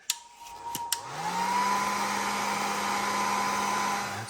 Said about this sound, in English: And then we'll heat shrink it.